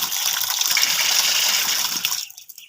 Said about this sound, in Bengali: তো মাছগুলো 10 মিনিট পর পানি দিয়ে ধুয়ে নিলাম।